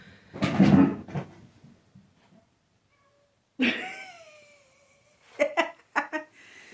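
A pet cat knocks something over indoors and runs off: a loud clatter and thump, then quiet, followed by a few sharp knocks and bumps as it dashes down the hall.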